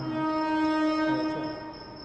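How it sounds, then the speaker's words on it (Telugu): A train drawing near, a steady strong tonal hum with layered harmonics, loud and constant throughout with no talk. "చూద్దాం ఏ ట్రైన్ వస్తుంది"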